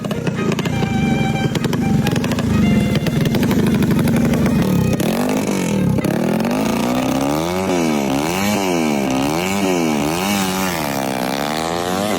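A built motorcycle engine on test revs loud and close, first holding a steady high buzzing pitch, then rising and falling in repeated throttle blips.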